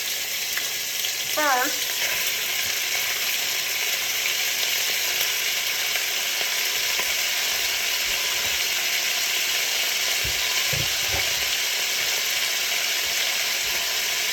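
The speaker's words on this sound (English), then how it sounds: "this skillet, my cooker is already pretty hot, and you want to sear your steak really good" Steak sears in a hot skillet for pepper steak, a loud, continuous broadband sizzle close up, with a few clinks and scrapes from stirring and a brief spoken word near the start.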